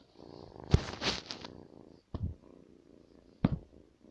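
A cat purrs softly and close by in rhythmic rumbling bursts, interrupted by a few sharp thumps and rustles, with no talking.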